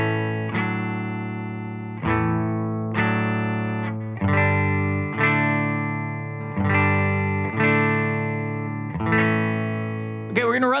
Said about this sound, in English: Silktone amp sounds like this.